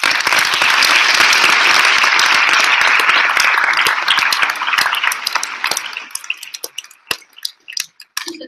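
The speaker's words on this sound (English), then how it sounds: "I would like to recognize and applaud the parents and supporters who are here tonight for our students." Loud, dense applause at a graduation ceremony for parents and supporters, sustained and then thinning into scattered individual claps before fading out.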